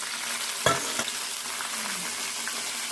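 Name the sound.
tomatoes, green chillies and coriander frying in a pan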